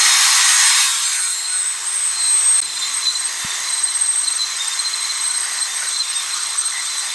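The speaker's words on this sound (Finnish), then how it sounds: "kun tehdään tätä hiomatyötä, niin tämä laikka ja sitten tämä aine tekee sen työn" A polishing pad with compound works scratches out of a car headlight, giving a steady, close, hissing whir that is loudest at first and then settles into an even, continuous rubbing grind with no voices.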